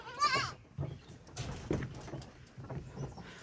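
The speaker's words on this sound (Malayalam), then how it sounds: "ഗൈസ് കണ്ടോ, ഇവിടെ ആടുകളുണ്ട് ഗൈസ്." Goats at a farm near Adimaly and Mangulam in Kerala give a short, sharp bleat up front, followed by quiet rustling, soft thuds and faint animal movement nearby.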